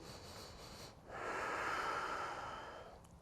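A slow, deep breath during a yoga practice at home: a long, steady airy exhale swells and fades over a couple of seconds after a quieter inhale, close and unaccompanied by talk.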